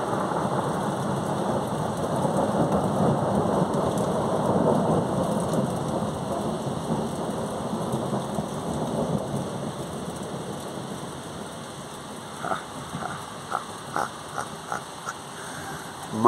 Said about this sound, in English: It hasn't stopped raining once.